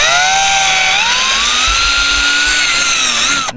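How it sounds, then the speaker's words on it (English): A power drill with an 11/64 bit bores a hole in a Hobie Pro Angler kayak, a steady close high whine running without pause for about three and a half seconds before stopping abruptly. "So we'll measure that and we'll drill a hole."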